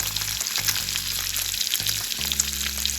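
Sand dabs sauté in a pan over medium heat, giving a close, continuous, steady sizzle with a low hum beneath it.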